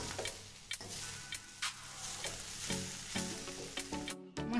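Potato masala sizzles and fries in a pan while a spatula stirs it with repeated close scraping taps and clicks, a continuous hiss running underneath and no voices.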